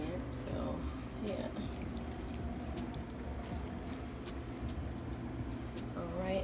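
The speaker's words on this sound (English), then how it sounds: "we're going to add just a little bit of water" Bottled water poured into a pan of ribs, a soft trickling and splashing running under a person speaking, fairly quiet and continuous.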